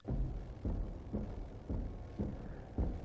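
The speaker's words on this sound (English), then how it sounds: "This is the sound of Mr. X, formerly known as Tyrant, ransacking the police station" Heavy, booming footsteps of Mr. X, the Tyrant, stomping through a police station in a Resident Evil game, five slow, evenly spaced thuds over a low rumbling background.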